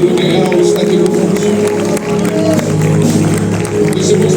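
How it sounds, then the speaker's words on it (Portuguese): Church congregation clapping during a worship service, a loud, dense wash of applause blended with sustained music tones and crowd voices, continuous throughout with a brief dip midway. "Palmas ao nosso Senhor Jesus Cristo, porque Ele é grande, verdadeiro, real, está aqui conosco."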